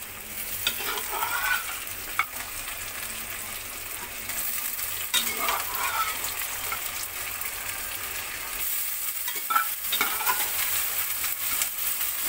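Boiled beef chunks for a karahi fry in a hot pan, a steady sizzle running throughout with scattered stirring scrapes and small clanks, close and continuous with no talking.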